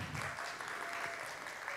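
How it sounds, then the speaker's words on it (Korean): An audience at a science interpreters' competition final applauding, a dense steady wash of clapping held throughout, moderately distant and even. "큰 박수 부탁드립니다."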